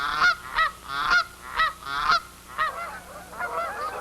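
A flock of dusky geese honks repeatedly, with clear, nasal calls coming in quick overlapping bursts, loud and near at first and then growing softer and more jumbled.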